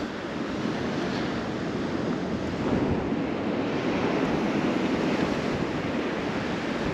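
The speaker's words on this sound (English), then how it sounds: "Right, so I'm on the beach now." Waves wash onto a cold beach under steady gusting wind that rumbles across the microphone, a continuous, fairly soft roar with no voices.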